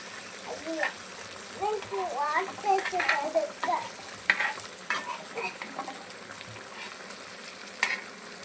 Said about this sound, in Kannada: ಮೀನ ಫ್ರೈ ಗೈಸ್ ನೋಡ್ರಿ, ಇಲ್ಲಿ ಖುಷಿ ಮೀನ ಫ್ರೈ ಆಗ ತನಕನೂ ತಡ್ಕೋವಲ್ಲ